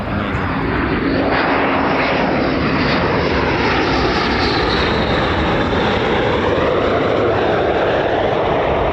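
F-15 fighter jet landing with aerodynamic braking at an air force base, a loud, continuous engine roar with a sweeping, shifting whine that stays strong throughout and has no talking.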